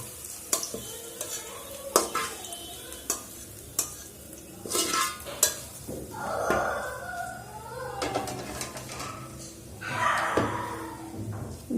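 Hot dal dhokli tempering poured into a pot and stirred, with loud sizzling bursts and repeated scraping and clanks of a spoon against the metal pot, close up.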